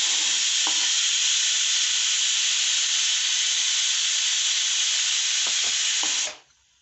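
Candied papaya pieces stirred with food colouring while still hot, a steady loud sizzling hiss with a few soft scrapes of the spoon, cutting off abruptly at the end.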